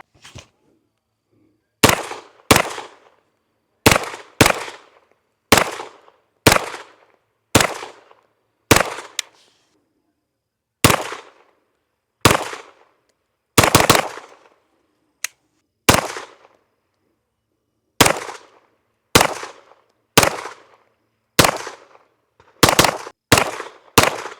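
Springfield Kuna pistol shots ring out loud and close, about twenty sharp reports fired singly and in quick pairs with short pauses between strings, each followed by a brief echo.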